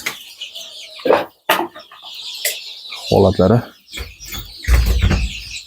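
Month-old Andijan black chicks cluck and peep in a coop, with flapping and rustling bursts, while a person talks nearby.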